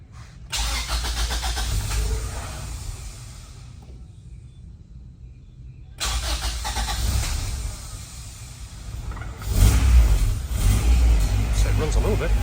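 A Honda Civic EG fitted with a GSR engine cranks and fires, idles roughly, cuts out, then restarts and revs under a steady running note, close by with people talking.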